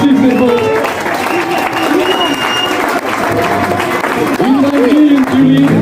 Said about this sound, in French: S'il vous plaît, je vous demande de l'applaudir.